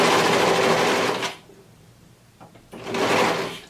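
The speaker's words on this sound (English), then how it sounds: "I'm just going to do it all in one using my serger" A serger stitches the seams of a maxi dress skirt in two loud, steady mechanical bursts separated by a short quiet pause, heard close up with no talking.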